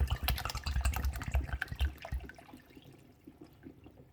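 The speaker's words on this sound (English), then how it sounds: "Do need to add a bit of water in." Water poured from a kettle into a canning pot for water-bath canning, splashing and gurgling loudly for about two seconds before tapering to a faint trickle.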